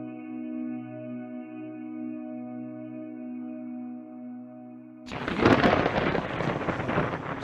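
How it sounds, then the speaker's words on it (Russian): Thunder from an approaching thunderstorm: a steady droning hum runs for several seconds, then a loud, heavy rolling rumble bursts in and keeps churning to the end. "Крепко, наверное, будет гроза."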